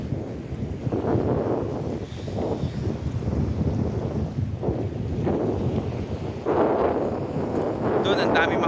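Strong seaside wind buffets the microphone in Boracay, a steady low roar with gusty surges near a moored boat by the shore, and a voice may be faintly audible beneath it.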